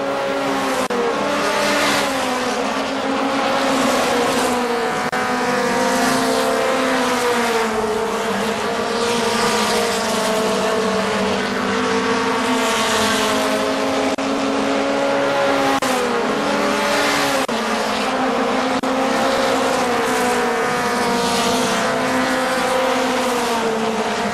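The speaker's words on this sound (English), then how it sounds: "Kenny Rutherford third, but right on his back bumper is the 17 of Frank Harvey." Stock cars racing at Kil-Kare Speedway, a pack of engines roaring continuously with rising and falling revs as cars pass close by, loud and steady throughout with no talk over it.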